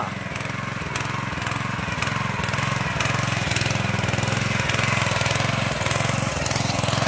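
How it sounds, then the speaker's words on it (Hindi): A motorized tiller works a brinjal field, its engine chugging loud and close in a steady rapid rhythm with rattling knocks throughout. "अरे ये तो लगता है जुताई कर रहे हैं"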